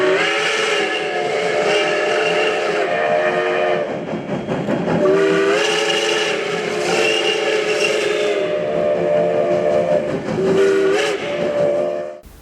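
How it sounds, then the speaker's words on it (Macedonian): A train passing on the line to Kavadarci, its loud whistle sounding in several long blasts over the rumble of the wagons for about twelve seconds, with no talking. "воз до Кавадарци. И товар,"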